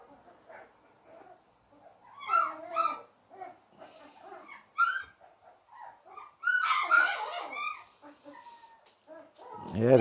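A tiny puppy, about three weeks old, whimpering in a cage, with repeated high thin whines and yips in uneven bursts, close by and fairly clear against a quiet background.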